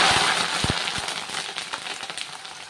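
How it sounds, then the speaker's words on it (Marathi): Curry leaves crackle in hot oil for a large batch of Kolhapuri onion-garlic masala. A loud burst of sizzling and spitting starts the sound, with sharp pops near the start, then it settles into a steady, close fry. "आता आपल्याला परत तेल बघू शकता कडलेलं आहे तर त्याच्यामध्ये आपल्याला कढीपत्ता भाजून घ्यायचा आहे."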